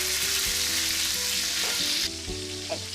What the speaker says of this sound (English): I'm going to stir this, and I'm going to let this saute for 3 to 4 minutes